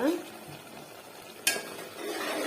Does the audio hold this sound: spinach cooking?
yes